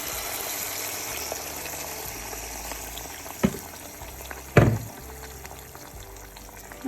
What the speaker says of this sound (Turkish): Şimdi üzerine sıcak suyumuzu veriyoruz.